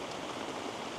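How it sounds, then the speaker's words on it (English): Heavy rain pouring during a thunderstorm at a beach campsite, a dense, steady hiss of falling water, close and continuous with no voices. "It has been pissing rain all arvo, and a heap of wind as well."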